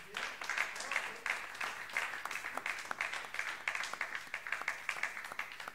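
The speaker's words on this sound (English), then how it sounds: "So big round of applause for them also," Audience applause at a live band concert in the Musikzentrum Hannover, a dense sustained wash of many hands clapping at steady loudness for several seconds, with a few voices faintly mixed in.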